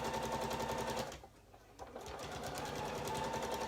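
A sewing machine stitches a seam with a fast, rhythmic mechanical chatter that pauses briefly in the middle and then starts again.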